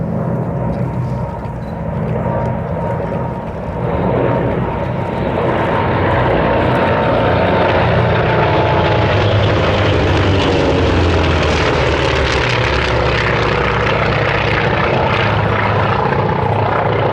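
Vintage navy fighters, a Bearcat, a Wildcat and three Corsairs, roar past at Sywell airshow, their piston engines loud and sustained, swelling and shifting in pitch as they pass overhead.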